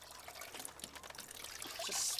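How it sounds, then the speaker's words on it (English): A Stirling SM-102 steam mop sprays out water with a steady, close hissing trickle that swells louder near the end, with no voices. "Spraying out water."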